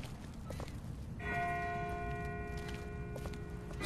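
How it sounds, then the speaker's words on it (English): A distant bell rings out in The Walking Dead video game, a single struck tone that rings on and decays slowly over quiet footsteps and ambience. "That's not the same bell as before. This one's further off."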